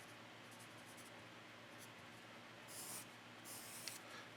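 A Blackwing Palomino graphite pencil writing on paper, a quiet, continuous soft scratching with a few brief louder strokes near the end, heard close and alone.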